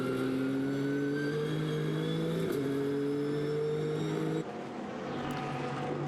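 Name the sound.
GT race cars at Monza, Nissan and Bentley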